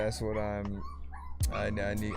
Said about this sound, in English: excuse my dogs right now